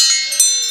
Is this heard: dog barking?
no